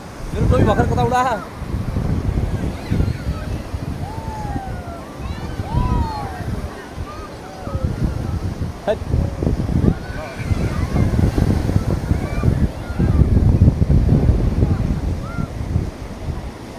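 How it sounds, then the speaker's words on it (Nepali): Strong wind buffets the microphone at a sandy beach in Sri Lanka, a continuous roaring rumble with gusts throughout, while people talk over it. "हावा चाहिँ एकदम मजाले आउँदो रहेछ"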